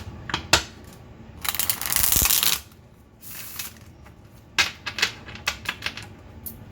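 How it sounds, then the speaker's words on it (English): A deck of tarot cards being shuffled by hand, with repeated riffling bursts, a longer sustained shuffle in the middle and quick, close card flicks and taps afterward, no voices. "let me get a good shuffle here with this deck."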